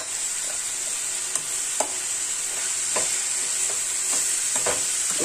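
Turnip bhurji with turmeric is being stirred in a pan, giving a steady close sizzle throughout with several soft scrapes and taps of the spoon against the pan.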